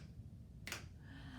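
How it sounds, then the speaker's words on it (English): A single crisp finger snap rings out clearly once against a quiet, faint room hum during a library story time. "Can you snap your fingers?"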